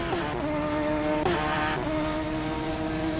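Radical SR3 race cars racing at Mosport Park on cold tires, high-revving engines whining loudly and continuously with sharp gear-change dips and a second car surging past mid-way.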